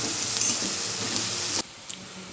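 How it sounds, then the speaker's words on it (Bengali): Onions with salt sizzle steadily in a hot pan, a loud, even frying hiss with faint stirring scrapes that drops off abruptly partway through, leaving a quieter background. "পেঁয়াজটা তাড়াতাড়ি ভাজা হয়ে যায়।"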